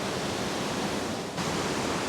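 Mountain creek water cascading steadily down rocky slopes near a waterfall, a dense continuous rush of broadband water noise held at an even, close, loud level throughout.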